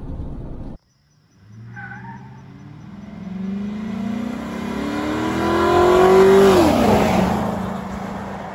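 A GMC Sierra pickup launches from a standstill with tires spinning, its engine note climbing steadily in pitch and loudness as it accelerates, then easing off at the top, close and loud with no talk.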